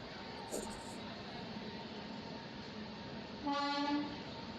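A passenger train waits at Palanpur station on the Gandhidham–Palanpur line. A steady background rumble runs throughout, and a short horn toot sounds near the end.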